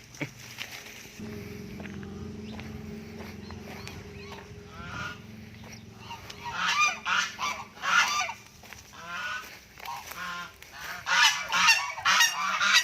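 A goose on a Thai farm honks loudly in repeated harsh bursts, quieter at first and then in rapid clustered calls, over a low background hum with some footsteps.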